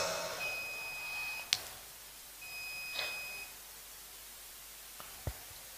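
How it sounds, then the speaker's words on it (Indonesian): Two long, steady electronic alarm tones sound one after another during a religious sermon, each a thin high beep lasting about a second, followed by a few sharp clicks over faint background hiss. "karena alarm sudah bunyi"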